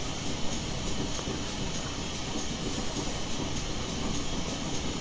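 A train rolls over rough track work in a railway simulator game, making a continuous heavy rumble with faint rhythmic clatter and a high metallic hiss, steady and loud throughout without pause.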